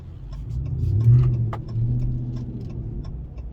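A 2021 RAM 1500 with the 5.7L V8 and Borla S-Type exhaust pulls hard at full throttle, a deep rising engine drone swelling around the middle and holding steady, with a few light clicks and rattles from inside the cab.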